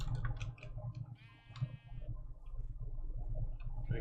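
Sheep in Minecraft bleat with a wavering, harmonic call, one clear bleat mid-clip over a steady low background hum, with softer blocky game noises scattered around it.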